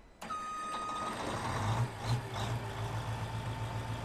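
In a PS4 farming game, a New Holland forage harvester's engine cranks and fires up, then settles into a loud, steady diesel idle with a repeating warning beep over it.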